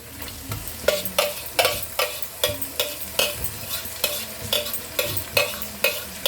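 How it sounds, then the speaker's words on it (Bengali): Marinated mutton sizzles in hot oil while a spatula stirs it in a quick, even rhythm of scraping strokes, each stroke a distinct close swish above the steady frying hiss. "এর মধ্যে আমি ম্যারিনেট করা মাংসটা দিয়ে দিচ্ছি।"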